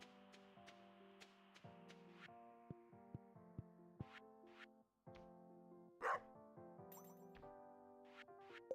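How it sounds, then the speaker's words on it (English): A dog barks in a Stardew Valley farm game, locked outside the farmhouse, giving a few sharp yips over a steady game music track, fairly faint and mixed low. "Oh, my dog's locked out."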